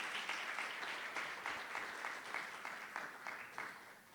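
A church congregation applauding the Lord, faint but steady rhythmic clapping from many hands, heard at a distance in a regular beat with no clear voices.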